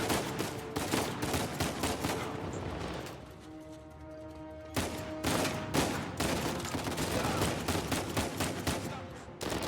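Rapid bursts of automatic gunfire and bullet impacts in the video game Uncharted 4, dense and continuous apart from a brief lull midway, with game music and faint talk underneath.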